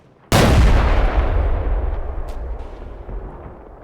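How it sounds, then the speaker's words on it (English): A single loud mortar round fires in the Combat Mission Cold War video game, with a sudden booming blast followed by a long rumbling decay that fades over several seconds, with no voices over it. "Time to keep the mortars going."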